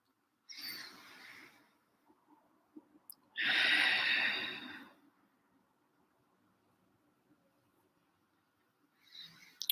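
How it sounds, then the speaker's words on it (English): A person breathing close to the microphone in a quiet room: a soft inhale, then a longer, louder exhale, with another breath starting at the end and near silence between. "my breathing."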